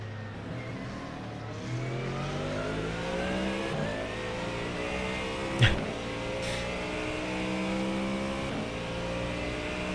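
Race car engines in the iRacing simulator, including a white, orange and blue Ferrari, with a sustained engine drone whose pitch climbs and falls through shifting gears and one brief sharp bump midway.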